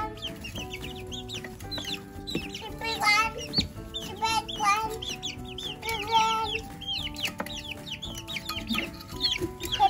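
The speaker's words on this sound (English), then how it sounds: "What do the chickens do? They're fighting. They're fighting over worms." Several chickens cluck and squawk excitedly close by while fighting over worms, overlapping calls rising and falling in an agitated flurry.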